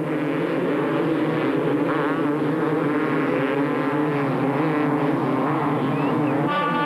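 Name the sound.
250cc motocross bikes starting a race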